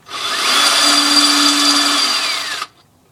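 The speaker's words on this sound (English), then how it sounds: "Successfully drilling a hole in glass." A drill bores a hole through glass for a homemade hookah, a loud steady high whine that ramps up, holds for about two seconds and then cuts off abruptly.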